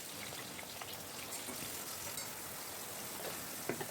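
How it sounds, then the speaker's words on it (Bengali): Chopped onions hit hot oil in a wok already seasoned with dried chillies, bay leaves and cumin, giving a faint, steady crackling sizzle with scattered small pops throughout. "এখন আমি দিয়ে দিচ্ছি পেঁয়াজ কুচি"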